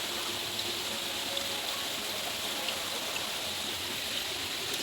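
Water running from the ends of tree roots into a tank, a steady close trickling and splashing wash that continues evenly throughout without voices.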